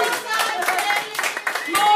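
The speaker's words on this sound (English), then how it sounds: "More applause for Neil" An audience at a book reading of a first chapter claps in a dense, lively burst, with voices talking and cheering over the applause.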